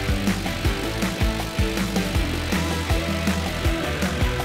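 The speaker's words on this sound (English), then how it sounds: "So then you're gonna put all the bolts in, torque them down" Bolts being torqued down with a power tool on a Horton LCX230 fan drive retrofitted in place of a MAHLE Behr unit for a Volvo truck, a repeated rattling clatter of short bursts with ringing metallic tones, close and steady, with no talk.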